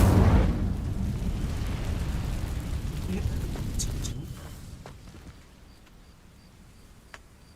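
An Incendio fire spell ignites dry vines in the Hogwarts Legacy video game, with a loud burst up front that settles into a sustained roaring, crackling rush before fading to quiet.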